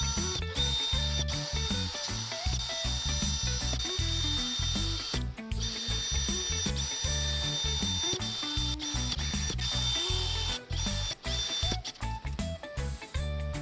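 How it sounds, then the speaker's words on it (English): A power drill whirs and bites into wood in repeated bursts while drilling pilot holes, with rattling and grinding of the bit; loud and close, no talking. "we're going to drill pilot holes to make attaching the shelves and supports easy"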